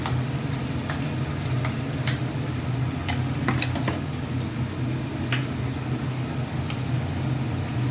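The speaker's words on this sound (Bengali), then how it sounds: "পর শুকনো লঙ্কা ফোড়নে দিয়ে দিলাম আর দিয়ে দিলাম কালো জিরে। এটা যে মুহূর্তে একটুখানি হালকা ফ্রাই হয়ে যাবে" Dried red chillies and nigella seeds fry in hot oil before gourd leaf paste goes in, giving a steady, moderate sizzle with scattered sharp crackles and pops and no talking.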